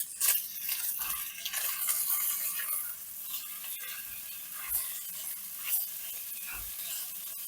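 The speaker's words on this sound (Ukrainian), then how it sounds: "Я постійно помішую, щоб і підчеревина, і сало рівномірно просмажилися." Pork fat and belly sizzle and crackle steadily in a cauldron while a utensil stirs and scrapes it, with periodic soft knocks against the metal.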